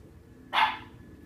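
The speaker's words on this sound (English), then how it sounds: "Dog barking." A single sharp dog bark, brief and fairly loud, standing out once against a quiet low background hum, with no speech.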